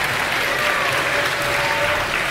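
Audience applause at the Assembly Winter 2012 StarCraft 2 finals, Polt versus Stephano: dense, steady clapping from a large crowd fills the whole stretch without a break.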